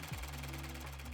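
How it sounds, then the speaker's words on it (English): A serger trims and overlocks the raw edges of elastic-waist trouser fabric, giving a steady, fast mechanical whir with dense stitching rhythm, close and continuous throughout. "To finish the raw edges of this garment, I'll be using my serger"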